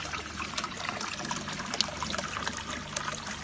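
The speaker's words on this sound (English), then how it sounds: "pump running, water flowing." Water from a garden pond pump trickles and splashes steadily, a faint continuous flow dotted with small drips and no voices.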